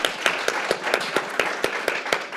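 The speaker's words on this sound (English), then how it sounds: "Let's give them applause" An audience at a panel event on heirs' property breaks into a steady patter of clapping, fairly soft and even with distinct individual claps, no voices over it.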